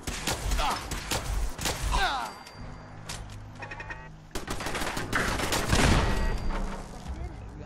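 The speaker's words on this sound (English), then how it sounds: "we'll end this episode with a gunfight with the gunners" Rapid bursts of automatic gunfire and sharp single shots in a Fallout 4 firefight against Gunners, loud and dense, with a brief lull midway before the shooting resumes heavily.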